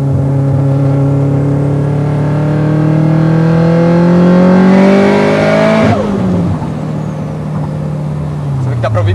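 Subaru WRX STi engine revving hard as the car accelerates, pitch climbing through a gear before a sharp drop at the shift, with turbo whistle clearly audible, loud and close from inside the car.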